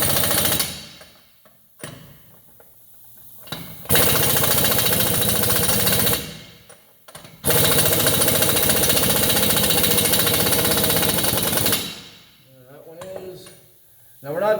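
An impact wrench hammers brake-job wheel lug nuts in several loud, rapid rattling bursts of a few seconds each, separated by short pauses, close up in a garage.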